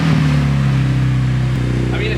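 A Honda K-series engine swapped into a Nissan S14 on its first start-up, its exhaust droning steadily and loudly up close with a strong low hum throughout.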